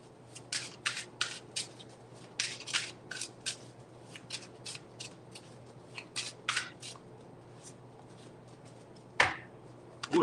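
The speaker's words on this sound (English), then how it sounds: "Ooh, it's a small shuffle." Tarot cards are shuffled by hand in a quiet room, a close series of soft riffling bursts and flicks that come in uneven clusters, ending with a sharper slap of cards.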